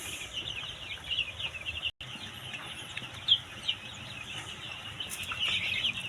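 Free-range village chickens cluck and chirp in scattered bursts over a steady low rumble, with a brief dropout partway through.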